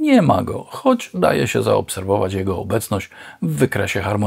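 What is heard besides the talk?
None of the usual background noises is heard.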